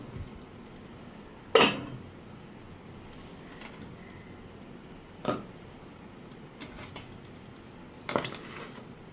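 Steamed jackfruit saandan lifted out of metal plates, giving three sharp metallic clinks spaced several seconds apart over a quiet room background, no talking.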